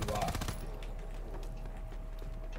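A rapid burst of automatic fire from a gun in WWII Zombies, loud for half a second and then trailing off into a low, steady game hum.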